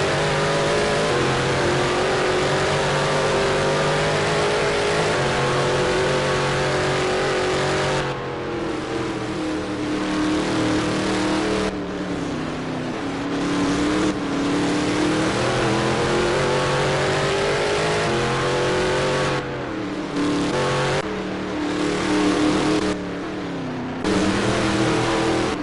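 Corvette race cars of the GT3 division in Project Cars at Sonoma, engines droning loud and steady throughout the whole span, rising and falling as they rev and shift, with several brief dips between pulls.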